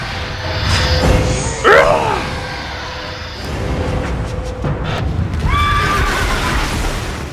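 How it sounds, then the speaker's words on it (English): Gigantic horse statues in God of War II neigh and whinny loudly twice while their heavy movement drags and booms underneath, close and prominent, with scraping and rumbling between the calls. "These gigantic horse statues move forward, tugging these chains that go through the temple of Lachesis."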